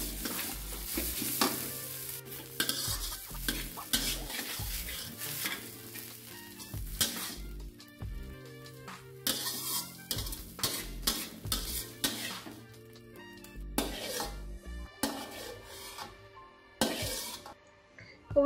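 Chopped preserved radish (chai po) being stir-fried in a wok: a continuous sizzle under repeated metallic scrapes and clanks of a spatula against the pan, irregular and close, with no talk over it.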